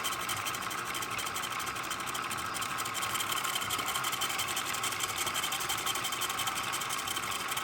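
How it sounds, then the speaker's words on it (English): A universal motor with a shorted coil runs steadily, giving a continuous loud whirring hum with a bright, buzzy edge that holds even throughout, with no talk. "it is a universal motor, not a dynamo."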